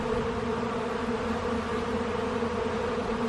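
Many honeybees buzz in a dense, steady drone close by around an open hive during an inspection, a continuous hum of flight with no voices.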